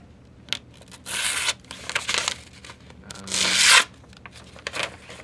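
A freshly sharpened knife with a slightly chipped edge, still carrying its burr, slicing close up in a few rasping, scraping strokes of varying length, with no talk.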